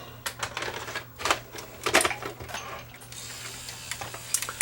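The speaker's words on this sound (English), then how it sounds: "We're going to let the tape load up." A Sony EDV7300 ED Beta VCR threads an ED metal cassette, giving off a run of close mechanical clicks, ratcheting gear sounds and small clunks, followed by a quieter whirring motor.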